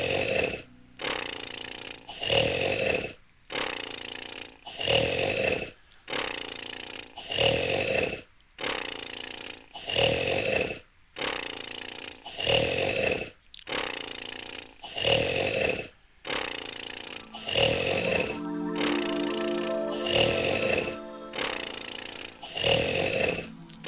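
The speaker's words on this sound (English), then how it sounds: "you can hear loud snores coming from directly beneath you." In the Quest for Glory 5 video game, loud snoring from a creature below repeats in a steady rhythm of long, rasping breaths with brief pauses between them.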